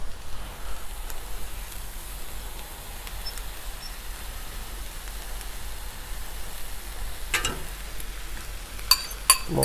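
Eggs poured into hot oil and frying for a breakfast quesadilla give a steady, soft broadband sizzle throughout, with a few faint clicks and pops near the end.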